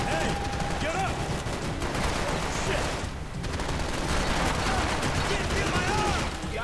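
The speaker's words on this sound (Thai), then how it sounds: "ยิงแบบไม่มองเว้ยยิงแบบไม่มองเว้ย" Continuous gunfire from the Max Payne 3 video game, a dense, steady barrage of shots and chaotic action sounds that fill the whole moment, with someone shouting excitedly over it.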